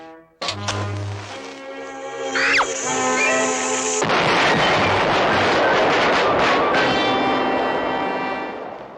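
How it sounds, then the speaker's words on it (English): A cartoon rocket fuse is lit and the rocket blasts off: a low hiss and rising whistle give way, after a sharp burst, to a loud, sustained roaring rush that fills the rest of the scene, with no talk. "Now, light the fuse and I'll blast off."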